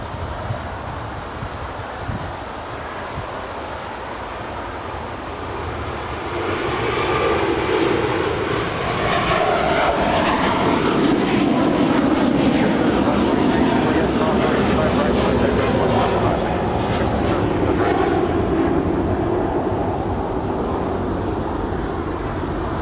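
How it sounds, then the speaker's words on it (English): A Qatar Airways Airbus A350-1000 takes off from runway 25 right at Los Angeles International Airport, its jet roar swelling from a steady background rumble into a loud, sustained, broad thrust noise that holds through the end. "It's an Airbus A350-1000."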